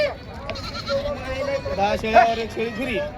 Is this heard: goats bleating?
yes